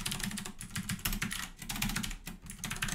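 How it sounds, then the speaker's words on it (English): Fingers type rapidly on a computer keyboard, producing a steady run of close, crisp key clicks in uneven bursts with brief pauses, no voices present. "And I'm going to type something in here just to test it."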